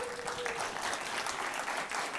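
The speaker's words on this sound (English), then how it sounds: "Give yourselves a big round of applause" A demo-day audience claps in a brief, busy burst of applause, moderately loud and continuous.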